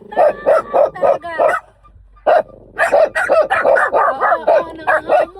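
Dogs at a campsite bark loudly and rapidly in close, repeated bursts, one short pause breaking a run of sharp yappy barks.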